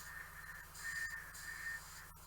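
A thin steady whistle, high and faint, sounding in two or three drawn-out stretches over a low hum in a quiet room where a model Land Raider is being painted.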